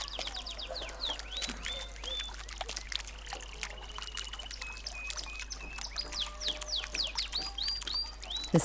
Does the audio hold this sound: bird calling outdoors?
yes